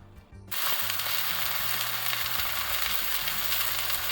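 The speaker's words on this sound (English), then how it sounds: "I'm going to put it peppercorn side down into this smoking hot pan" A peppercorn-crusted flank steak is laid peppercorn side down into a smoking hot pan; after a brief quiet moment, a loud, steady, close sizzle and crackle bursts up and continues unbroken.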